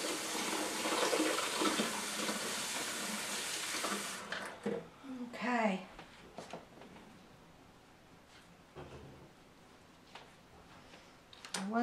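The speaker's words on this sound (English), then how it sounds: "now I'm just going to rinse this off a little bit" Running tap water rinses a soap-making utensil during cold-process soap work, a steady broadband gush for about four seconds that then stops, leaving faint handling noises and brief splashes.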